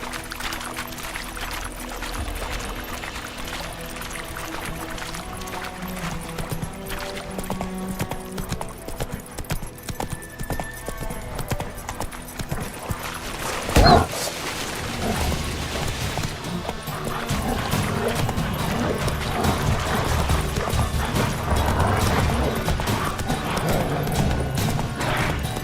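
Roach the horse trots in Witcher 3, rhythmic hoof clip-clops running steadily with a loud thump midway and dense game ambience swelling toward the end.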